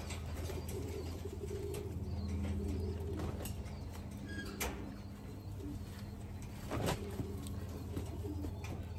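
Racing pigeons at a loft coo softly and flap their wings, with scattered calls and wingbeats over a constant low background hum.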